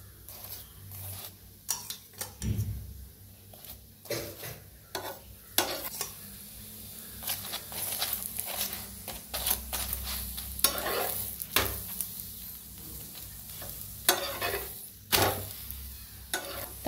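Chapati roasting on a hot pan with oil brushed on, a steady low sizzle broken by repeated scraping and stirring clatter, close and fairly quiet, with no voices.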